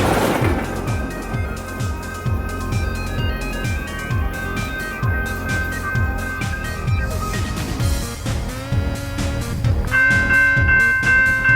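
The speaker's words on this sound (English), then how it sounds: "E-bells would chime again" Electronic railroad crossing bells on a BNSF line near Crowley, Texas, strike in a rapid, even repeating rhythm, fairly close, with a steady tonal ring continuing through the night scene.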